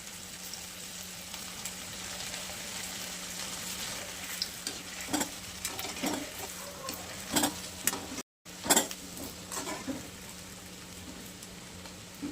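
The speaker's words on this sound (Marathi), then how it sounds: "हे बॉल्स आहे ना असे गरम तेलात, म्हणजे की फुल गॅसवरच तळायचे" Semolina manchurian balls frying on full heat in hot oil give a steady close sizzle and crackle, with occasional sharper pops and bubbling bursts, and no talking.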